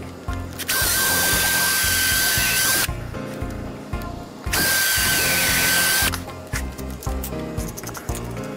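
A power drill drives screws into a wooden bird feeder in two long, loud whirring bursts, each about two seconds, with rattling and handling noise before, between and after them.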